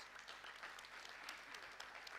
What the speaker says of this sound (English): Can I ask for a big applause to our speakers?